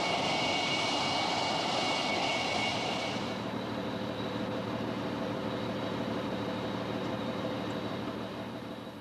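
English Electric Lightning jet aircraft engine roaring loudly with a broad, hissing blast that drops in intensity after a few seconds and then lingers as a sustained rumble, heard alone without talk.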